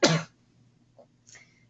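A single harsh cough from someone with a cold, loud and close, followed by a faint throat noise and a short breathy rasp, otherwise quiet.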